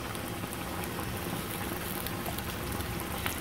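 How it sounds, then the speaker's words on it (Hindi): Pooris fry in an oil-greased pan for a Lahori breakfast, giving a continuous dense bubbling sizzle that stays even and close throughout. "अब ये मैं जो है वो पूरी डाल रही हूँ।"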